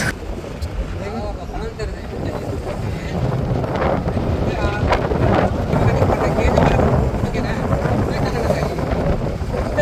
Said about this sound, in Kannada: ಫ್ರೆಶ್ ಆಗಿ ಗಾಳಿ ಬೀಸ್ತಿದೆ